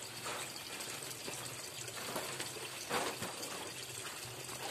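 Water from a toman fish pond drains out in a steady, fairly loud rushing trickle, continuous throughout with small splashy surges.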